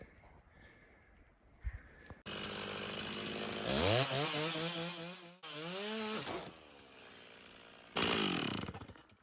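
A chainsaw cuts into a fallen black oak from underneath, its engine revving hard in long loud bursts with rising and falling pitch as the bar bogs in the wood, after a quiet idle start.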